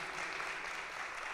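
Church congregation applauding during a worship service, a steady wash of hand claps held at an even level, fairly soft and distant, with no voices on top.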